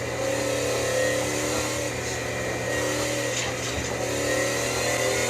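A Shelby GT500 in the racing game Forza Horizon 5 holds a steady, loud engine drone with a mild rise in revs, heard alone without voices.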